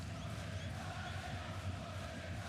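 Cremonese football fans in the stands during a Serie A match against Milan, a steady broad crowd roar with clapping and cheering that holds throughout at moderate, distant level.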